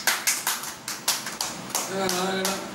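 Hand clapping at a home birthday celebration for a young brother, a run of sharp, close claps in an uneven rhythm, with a voice humming or singing faintly toward the end.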